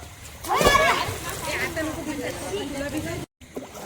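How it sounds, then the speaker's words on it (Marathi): Three children jump into a farmhouse swimming pool together, making one sharp splash followed by sloshing water, with voices talking and shouting throughout. "हा तिघांची एकदम उडी."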